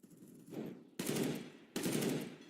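Gunfire in a Counter-Strike style shooter during a CCT North Europe esports match: loud, close bursts of rapid automatic fire, with two sharp volleys cutting in back to back after a softer opening burst.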